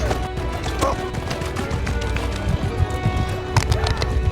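Hooves clatter in a quick galloping rhythm while a horse whinnies, set against a busy backdrop of battle action in the video game Mount & Blade II: Bannerlord.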